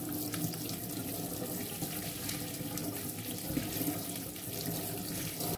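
Steady running tap water splashes into a sink while a meat grinder is rinsed clean, a continuous close gush with no talking over it.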